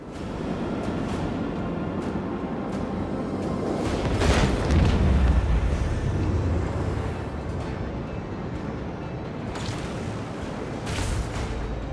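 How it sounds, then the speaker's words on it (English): Sonic torpedoes firing in the Rogue Trader video game: a continuous rumbling space-battle din with a deep, heavy boom swelling near the middle and scattered sharper impacts, fairly loud with no talking. "Sonic torpedoes go to this one."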